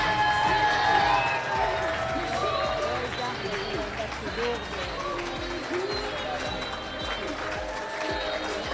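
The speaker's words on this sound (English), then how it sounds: "give your round of applause to Tomoaki" An indoor audience at a university climbing competition cheers and claps for a competitor, a sustained loud burst of applause and whoops that stays strong throughout, with scattered voices mixed in.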